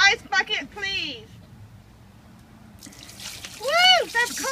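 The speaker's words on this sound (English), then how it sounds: "Pour the ice bucket, please." An ice bucket of water is poured over a person in a skeleton costume for the ALS Ice Bucket Challenge, a brief soft splash and trickle in a gap between bursts of nearby talk and whooping.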